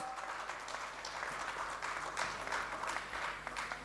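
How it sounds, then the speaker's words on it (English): A steady wash of crowd applause at a panel discussion, many hands clapping continuously at moderate loudness from start to finish with no talking. "Let's give a big round of applause."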